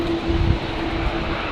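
A Virgin airliner departs Brisbane Airport on a windy day, its engine roar a steady, moderately loud broadband rumble throughout with gusty low-end buffeting and a faint tonal hum.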